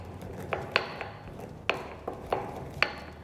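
Mahlep seeds are ground fresh by hand in short, sharp cracking and crunching strokes, about eight distinct hits in an uneven rhythm, close and fairly quiet.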